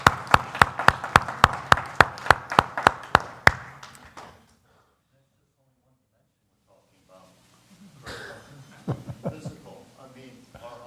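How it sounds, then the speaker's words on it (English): Rhythmic, evenly spaced hand clapping from a lecture audience, about a dozen sharp claps over three seconds, then a pause before speech resumes. "Should we applaud?"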